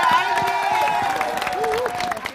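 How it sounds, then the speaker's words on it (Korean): An audience on the Korean TV talent show Star King claps to welcome a school's whole student body onto the stage. The clapping is dense and continuous, with tonal music and voices running over it. "큰 박수로 환영해 주시기 바랍니다."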